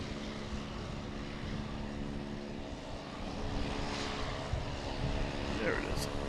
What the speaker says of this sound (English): we have a JetBlue coming in from Fort Lauderdale. It's an A220, flight 1370.